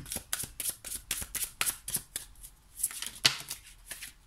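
Playing cards being shuffled and drawn by hand: a quick run of soft, papery riffling taps, then sparser slides and flicks, close and fairly quiet.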